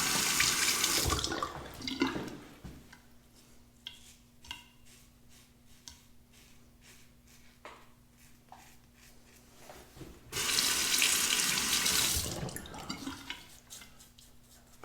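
Tap water runs steadily into a sink to rinse a copper open-comb safety razor, with loud gushing bursts at the start and again near the end and softer dripping and ticking in between.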